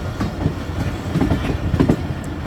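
A train rolls through Rawalpindi railway station with a steady clickety-clack of wheels over rail joints, a dense rumbling rhythm heard close by with no talking.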